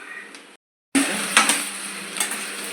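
Tamarind added to a pan of cooking vegetables for dosa chutney sizzles steadily while being stirred, with a few scraping spoon strokes against the pan, close and moderately loud after a brief silent gap.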